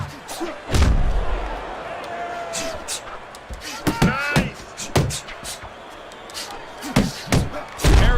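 Punches thudding in the Fight Night Champion boxing video game, a run of sharp heavy impacts and hooks scattered across the round, loud and close, with game commentary talking over the blows.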